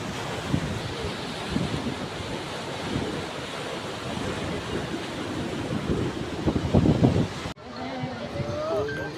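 Sea waves rolling onto the shore at Fort Kochi beach in Kerala, a loud continuous surf roar with heavy wind buffeting the microphone, then a sudden drop to a quieter wash of water near the end.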